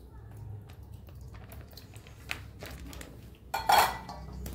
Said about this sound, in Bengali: এগুলো একসঙ্গে মাখিয়ে নেব